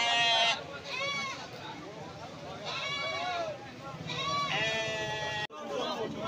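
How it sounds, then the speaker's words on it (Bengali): Black Bengal and crossbreed goats bleat repeatedly at a busy goat market in Uluberia, several loud, wavering calls close by over a constant crowd murmur and voices. "এখানে সব ব্ল্যাক বেঙ্গল রয়েছে আর কিছু ক্রস জাতের ছাগল রয়েছে।"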